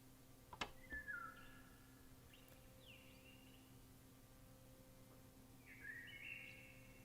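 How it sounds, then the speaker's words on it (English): Birds chirping in a media clip played within a toddler stress assessment in The Mandela Catalogue: a few faint, brief whistled chirps over a low steady hum, with long quiet gaps between them. "Birds chirping. Very nice."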